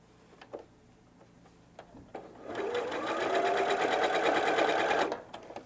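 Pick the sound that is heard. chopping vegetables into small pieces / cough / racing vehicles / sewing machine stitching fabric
sewing machine stitching fabric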